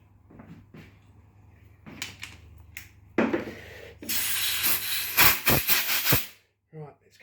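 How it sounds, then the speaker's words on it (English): Compressed air hisses in several sharp bursts into a threaded hole on a 31 cubic inch Briggs engine being rebuilt, blowing out the broken tang of a thread insert, preceded by faint handling clatter. "then I get the compressed air in there again, and I blow that little piece out"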